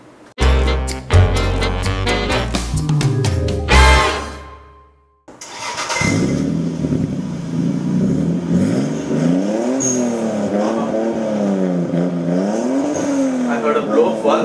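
A Toyota Supra with a 2JZ engine revs hard in loud, rapid bursts, cuts out briefly, then idles and rises and falls in wavering revs, with no talking.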